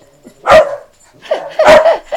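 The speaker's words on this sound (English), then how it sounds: "So one barks and says hello, and the other one barks and says hello" Two dogs bark one after the other, indoors in a noisy household, with a single loud bark followed by a second dog's bark and a shorter yip. Both are close and clear, with no talking.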